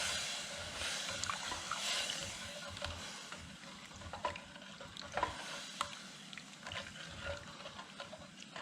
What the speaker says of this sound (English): What I'm doing is scraping the bottom to get the fond off